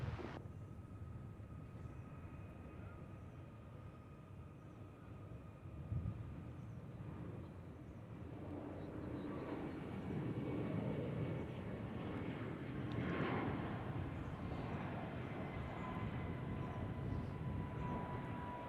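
An American Airlines Airbus A321neo departs from runway 1 at Reagan National Airport, its distant, faint jet roar building gradually into a steady rumble.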